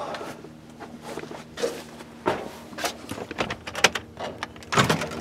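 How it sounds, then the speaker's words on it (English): An RV door being opened, with a scatter of clunks, knocks and rattles of varying loudness over a low steady hum, ending in a couple of firmer thumps. "Opening the RV door."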